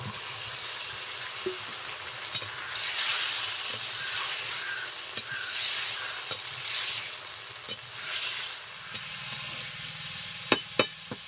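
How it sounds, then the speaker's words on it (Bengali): Boiled potatoes and taro tossed in a wok of frying raw-ground spice paste with turmeric, sizzling steadily while a spatula scrapes and knocks against the pan in irregular close strokes, no talking. "আলু দেওয়ার পর কিছু সময় নেড়ে চেড়ে নিয়েছি কড়াইটা একটু লেগে লেগে আসছে"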